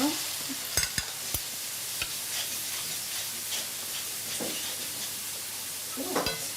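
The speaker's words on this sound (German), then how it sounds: "Für das Filet noch ein bisschen Farbe bekommen, werden sie noch kurz anbraten." Fillet and vegetables searing in a hot pan in a farm-style kitchen, a steady low sizzle punctuated by several sharp utensil clicks and stirring clatters.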